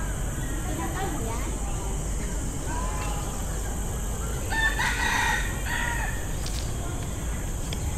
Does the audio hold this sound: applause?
no